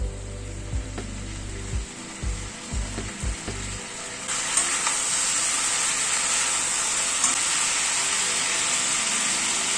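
Spices fry and get stirred in a pan, beginning with several low knocks and scrapes, then settling into a loud, even sizzle that holds steady to the end.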